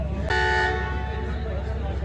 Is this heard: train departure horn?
yes